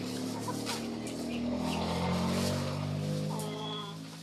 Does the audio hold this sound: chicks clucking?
yes